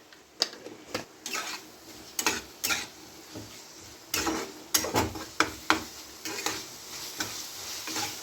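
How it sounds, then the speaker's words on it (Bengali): Spice masala for soya chunk ghugni being stir-fried in a pan with a spoonful of jaggery, little or no oil, with repeated scraping stirs and clinks of a spatula against metal over a soft sizzle. "মশলাটা যতক্ষণ না কাঁচা গন্ধ ছাড়ছে ততক্ষণ আমি ভালো করে কষে নেব"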